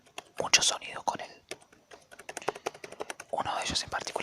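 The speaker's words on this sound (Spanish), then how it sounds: "tengo el teclado a mano, así que puedo hacer mucho sonido con él." A computer keyboard is tapped in quick irregular bursts of close, crisp key clicks, with soft whispered speech running alongside and between the typing.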